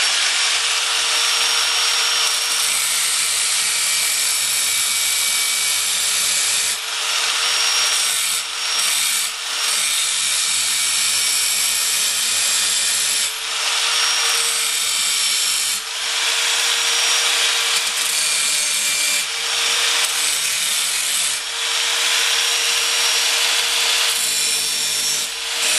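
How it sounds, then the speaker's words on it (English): A 4-inch angle grinder cuts into the steel side panel of a HAF X PC case, a loud, continuous high-pitched grinding whine that holds steady for the whole stretch, with brief dips as the disc lifts and reengages. "using a 4-inch grinder"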